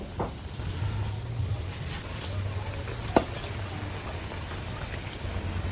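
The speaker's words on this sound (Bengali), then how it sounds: "মানে তেলের শব্দটা কি আপনারা শুনতে পাচ্ছেন নাকি আমি জানি না" Gaja sweets frying in hot oil give off a steady, even sizzle that fills the clip, close and fairly quiet, with a single sharp tap partway through and no talking.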